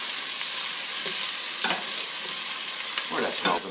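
Onions sizzle loudly in a hot pan while being stirred for an asparagus and mushroom risotto, a close, bright hiss broken by scraping stirs.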